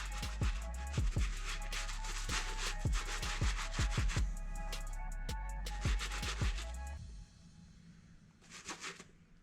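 A Crep Protect cleaning wipe is rubbed over sneaker soles in quick, repeated scrubbing strokes, quiet and close, with the rubbing tapering off toward the end.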